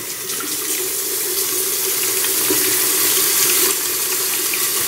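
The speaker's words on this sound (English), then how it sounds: "So you just use some warm tap water, as you can hear" Warm tap water runs steadily from a faucet into a sink, a continuous bright, close hiss and splash at even loudness with no talking.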